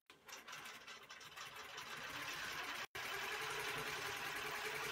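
Longarm quilting machine with a Pro-Stitcher and horizontal lock stitching fabric in a square, a steady loud mechanical whir with rapid needle chatter that runs almost continuously, broken by one brief cutout near the middle.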